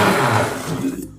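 A kitchen mixer grinder churning sautéed tomato, onion and tamarind into a paste, giving a loud, close whirring grind for about a second before it abruptly stops.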